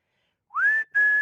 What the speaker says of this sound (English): and then I start whistling